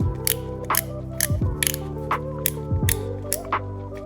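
The two halves of a clicky Tide Coin are screwed together by hand, giving a close, quiet series of sharp ratcheting clicks in a regular rhythm as the parts turn, with no talk.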